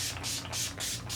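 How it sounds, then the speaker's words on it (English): Urban Decay All Nighter setting spray is pumped in quick succession, giving four or five close, hissing bursts with a soft mechanical click at each press. "So first I'm gonna spray with my Urban Decay All Nighter spray really quickly."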